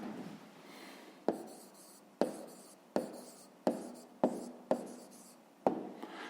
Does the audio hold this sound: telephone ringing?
no